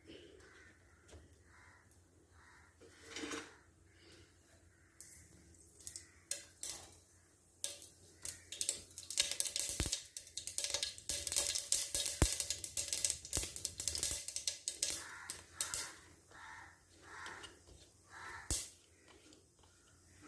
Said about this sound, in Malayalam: അപ്പം നമുക്ക് കടുകൊന്ന് പൊട്ടട്ടെ പടപടാന്ന് പൊട്ടിയ ഉടനെ നമുക്ക് ഇട്ട് കൊടുക്കാം